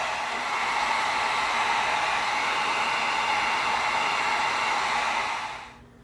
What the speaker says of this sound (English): Now let's hit it with some heat, and it's going to open those creases up just a little bit.